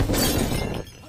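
An oil lamp falls and breaks in a brief, loud crash of shattering glass close by, then quickly dies away.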